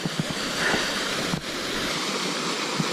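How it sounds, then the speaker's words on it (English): A waterfall and stream on a day-hike trail give a steady broadband rush of flowing water at moderate distance, even and unbroken, with a few faint knocks and no talking. "Beautiful waterfall for a day hike."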